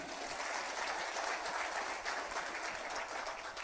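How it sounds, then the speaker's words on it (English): Applause from an audience at a presentation in Pattaya, Thailand: a steady, continuous wash of clapping from a sizable crowd, fairly distant and even in level throughout. "A big round of applause for this gentleman."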